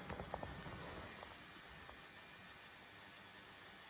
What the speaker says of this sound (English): diesel heater at startup